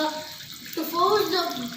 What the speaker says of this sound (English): The pump forces water upwards to create a falling effect into a lower basin.